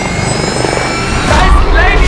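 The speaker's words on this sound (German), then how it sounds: "Dann starten wir unsere Drohne eben so." A small drone taking off near a lake outdoors, its rotors giving a steady high-pitched buzzing whine that grows louder and rougher as it lifts, with people talking over it.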